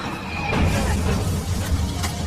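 Horse neighing amid a loud, dense film soundtrack from The Revenant, a 2015 wilderness survival film, a brief whinny rising out of roaring wind and rumbling noise, with sharp crashing bursts near the end and no speech.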